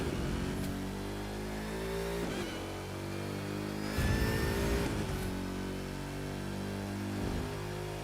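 A car in The Crew 2 racing game at full throttle, its engine revving hard in repeated rising pulls with brief dips between gear changes, loud and close throughout.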